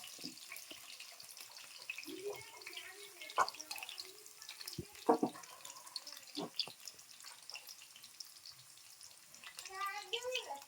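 Chopped onions fry in a pan and get stirred, with a quiet sizzle and occasional scraping clinks of the utensil, faint and intermittent, while someone talks over it.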